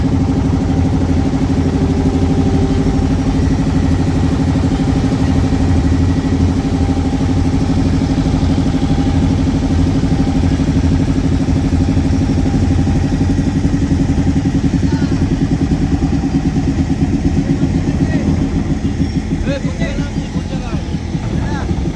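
A motorboat engine drones steadily and close up throughout a boat ride on the Ganges at Varanasi, a continuous low mid-pitched hum with faint voices in the background.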